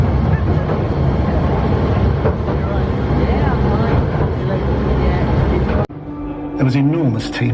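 A moving train's interior rumble and clatter on a passenger journey, loud and steady for most of the stretch, then abruptly dropping to a quieter hum near the end, with voices mixed in.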